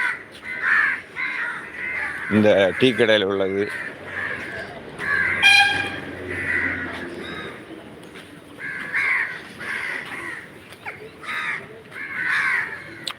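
Crows caw repeatedly at a roadside tea shop, loud and close over street noise, with someone talking intermittently and a brief vehicle horn-like tone.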